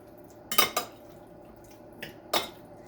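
Teriyaki glaze stirred into beef jerky meat in a bowl, a few wet utensil clinks and squelches in two short bursts, close and quiet with no talk.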